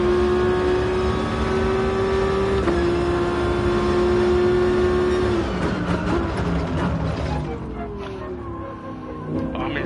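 A DGT GR1T Tomahawk race car engine in GT Sport holds a steady, high, whining drone, then shifts and revs unevenly toward the end, under someone talking.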